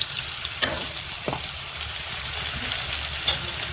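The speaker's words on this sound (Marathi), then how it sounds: "याच्यामध्ये टाकूया आपण टमाटे. याला मिक्स करून घेऊया." Tomatoes fry in a pan with a constant close sizzle as a spoon mixes them, giving a few sharp scrapes and clicks over the hiss, with no voices.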